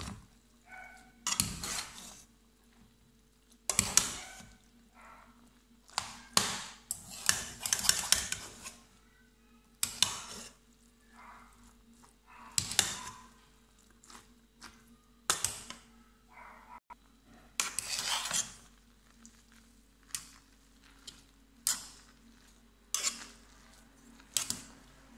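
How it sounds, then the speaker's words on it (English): Egg and spaghetti being mixed together in a dish, with sporadic clattering scrapes and clinks of a utensil against the dish, separated by quiet pauses. "As you can see, my egg and my spaghetti mix together."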